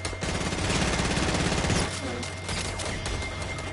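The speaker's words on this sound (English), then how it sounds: "Wait, who's shooting?" Video game gunfire, a sustained burst of rapid automatic shots for nearly two seconds followed by more scattered firing, loud and close, mixed with faint background voices.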